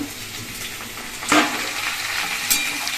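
Fish, potatoes and pointed gourd fry in a pan with a steady broadband sizzle, broken by a couple of brief louder scrapes of stirring; no one speaks.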